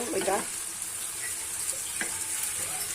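Polao (pilaf) cooking in a new nonstick pot, with a steady close sizzle and hiss, a brief louder stirring scrape near the start and faint clinks later on.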